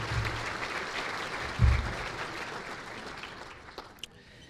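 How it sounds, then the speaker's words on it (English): Guests at an annual association luncheon give a round of applause, a steady wash of many hands clapping that slowly tapers off, with a short low thump partway through. "Give them a round of applause."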